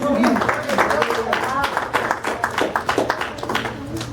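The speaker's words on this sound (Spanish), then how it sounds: "¿Cuántos pueden darle un aplauso al Señor?" A church congregation applauds, a dense, steady patter of many hands clapping at once, held at an even level for several seconds with a voice faintly underneath.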